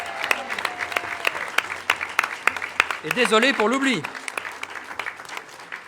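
Applause at a municipal council installation meeting, with many sharp individual claps ringing out in the room while someone speaks briefly in the middle.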